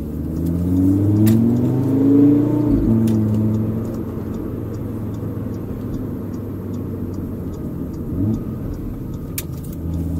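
A 2015 Audi RS3 with its 2.5 TFSI five-cylinder engine pulls hard from inside the car, a loud rising rumble and whir that climbs then settles into a steady cruising drone.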